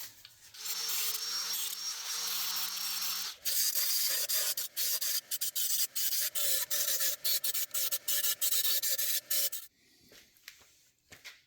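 A fabricated steel bracket for an FJ Cruiser onboard air compressor is cleaned with a power abrasive: a steady grinding rub, then a run of short repeated bursts, loud and close with no talk.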